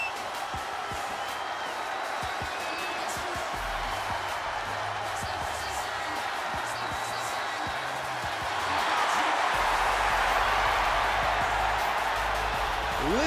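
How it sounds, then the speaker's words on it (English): Crowd ovation for Bianca Belair in WWE 2K23, a broad wash of arena cheering and noise that swells louder toward the end, heard under ongoing commentary. "Listen to this ovation. The WWE Universe loves cheering on the EST."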